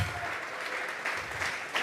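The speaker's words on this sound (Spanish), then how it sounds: "Vamos a regalarle ofrenda de palmas al Dios de la gloria" A church congregation claps together in praise during a worship service, a dense steady patter of many hands heard somewhat distantly and fairly quietly, with faint voices mixed underneath.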